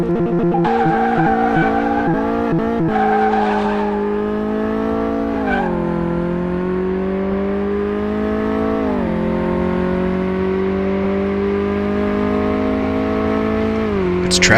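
A car in the video game Car Mechanic Simulator 2018 races with a loud, sustained engine note that rises and shifts through gears, with tires squealing near the start, continuous and close with no talk.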